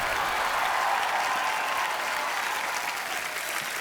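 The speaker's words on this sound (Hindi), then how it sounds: "आप सबकी जोरदार तालियों के बीच प्लीज वेलकम पंजाब की शान सुपरस्टार दिलजीत दोसांझ।" Studio audience at a TV comedy show bursts into loud, dense applause welcoming Punjabi superstar Diljit Dosanjh, a steady wash of clapping that holds without a break.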